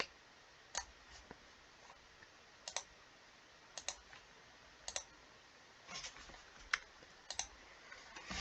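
Light mouse clicks during Geometry Dash gameplay, a string of faint, sharp single and double clicks spaced irregularly over quiet background hiss.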